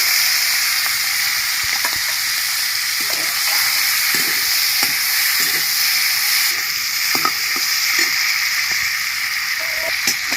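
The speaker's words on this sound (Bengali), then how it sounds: "চিংড়ি মাছগুলো আমি ভেজে নিচ্ছি হালকা করে" Shrimp fry lightly in a pan, giving a loud, steady, close sizzle with occasional soft taps of stirring. No one speaks.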